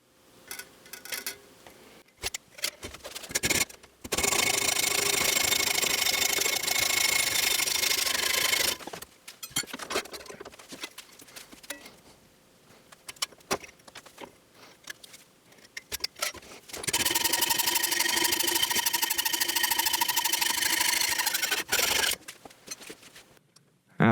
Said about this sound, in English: The next step is to cut the 1/4-20 rod into 2 8-inch long pieces